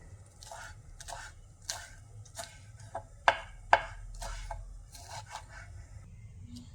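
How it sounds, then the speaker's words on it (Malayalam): A knife taps and scrapes through spring onion stalks on a board, irregular soft cuts with two sharper knocks near the middle, close and fairly quiet. "അത് തിളയ്ക്കുന്ന സമയം കൊണ്ട് നമുക്ക് ഉള്ളിത്തണ്ട് ഒന്ന് കട്ട് ചെയ്തെടുക്കാം."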